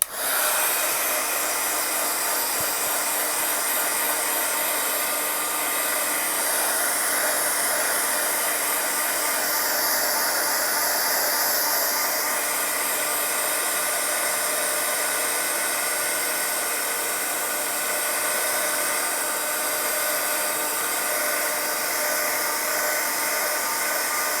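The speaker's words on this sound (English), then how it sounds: "I'm going to hit these with my heat tool again." A heat tool blows hot air steadily over watercolor paint in a journal of simple landscapes, a loud, continuous close-up whir holding level for the whole stretch with no talking.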